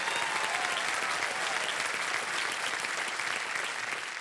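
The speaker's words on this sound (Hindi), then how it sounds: "जोरदार तालियां बज जाए।" A game show studio audience bursts into loud, sustained applause, steady clapping filling the whole stretch without any talking.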